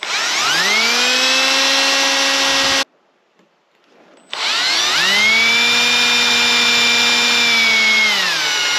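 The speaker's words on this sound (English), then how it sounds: "now that we've got our spot marked to drill, we're gonna go real easy" A power drill bores into the shaft of a Motorguide Xi3 trolling motor, whining loudly and steadily in two long runs separated by a short silent pause, close up and with no talking.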